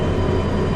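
A train of eleven cars hauled through Derail Valley, a railway simulation game, gives a dense steady rumble of rolling wheels and rail noise, loud and close for under a second.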